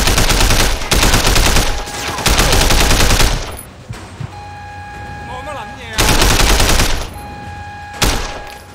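Bursts of automatic gunfire from the video game Sleeping Dogs, loud rapid rattling volleys separated by short pauses, with quieter electronic tones and effects between the bursts.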